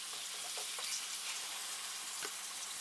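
Hamburger steak patties frying in a hot skillet with about a tablespoon of oil, a steady broadband sizzle with faint crackles and a few soft pops, constant and close, no voices.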